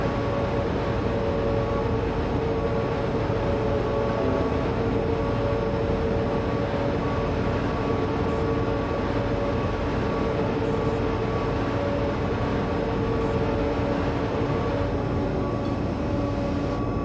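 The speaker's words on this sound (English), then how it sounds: "Hey Doc, what loco is that?" A locomotive hauling a train on the Pietermaritzburg to Ladysmith line in South Africa in Train Simulator 2015, a steady, unbroken rumbling drone with a constant engine hum, close and even throughout, with no voices.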